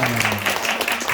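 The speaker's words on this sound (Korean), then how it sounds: "하나님께 영광의 박수 드리겠습니다" Brief burst of steady applause from a church congregation during a Christmas service, dense hand clapping filling a reverberant room, with no voices over it.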